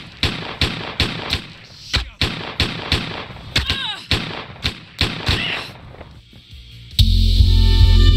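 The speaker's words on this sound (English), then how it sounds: "We heard gunshots." Rapid gunshots in the video game Autobahn Police Simulator 3 crack out in a steady series, some in quick bursts, ending with a loud sustained rumble like an explosion or heavy impact.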